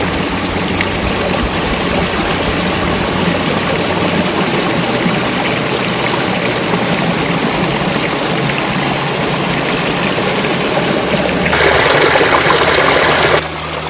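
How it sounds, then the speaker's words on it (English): Clear spring water from a mountain on a farm near Jerusalem flowing steadily, a continuous close rushing and trickling that swells briefly louder near the end. "water from the plentiful water springs in the middle of the mountain, which belong to this property"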